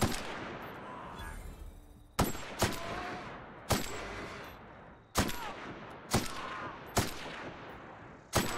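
Assault rifle shots in the video game The Outer Worlds, seven or eight sharp, loud single cracks spaced about a second apart, each trailing off into a short echo.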